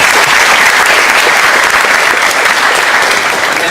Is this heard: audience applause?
yes